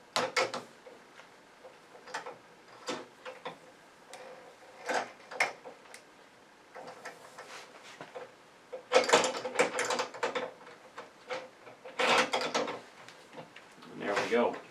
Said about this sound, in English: These carriage bolts just slide easily into the track.